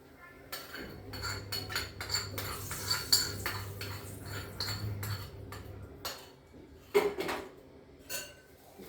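Steel utensils clink and scrape as tempering is poured over dadpe poha, a series of close metallic taps and knocks spread irregularly through the clip over a low hum.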